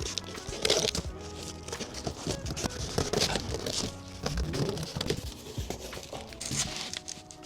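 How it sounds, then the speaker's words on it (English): Scissors snip through a paper or card floor template inside a camper van, giving a busy run of crisp cutting, rustling and crinkling sounds close by, without speech. "Just going to go in and cut it with scissors."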